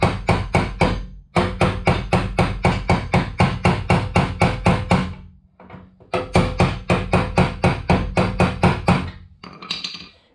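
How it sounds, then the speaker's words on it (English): Rapid, steady hammer blows ringing on the sheet-metal body of a GC8 car, a long run of sharp metallic strikes with a brief pause, then more strikes, loud and close. "So we can put this kind of in this hole and then kind of hammer it."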